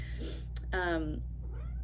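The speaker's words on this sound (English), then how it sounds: "there is going to be a lot of cat interruptions in any other videos that I ever make" A house cat meows once, a short harmonic cry close by, over a steady low hum; a voice speaks briefly before it.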